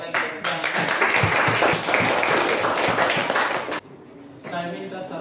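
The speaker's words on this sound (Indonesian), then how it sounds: "Ya, sekali lagi tepuk tangan." Classroom students clap for a presenting group after their chemistry report, a dense, steady round of applause that cuts off abruptly, followed by quieter room sound.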